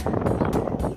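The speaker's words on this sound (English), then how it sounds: "I bet it's so windy you can't even hear what I'm saying" Strong outdoor wind blowing hard enough to whip hair around, a brief, dense rush of wind noise buffeting the microphone with steady pressure throughout.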